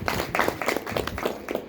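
An audience claps in rhythmic bursts at a devotional Bhagavat Katha gathering, a dense and fairly loud patter of many hands with no talk over it.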